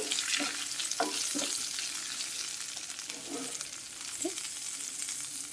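A coriander and mint paste crackles and sizzles in hot tempering oil, close up, with a few scraping stirs as it cooks.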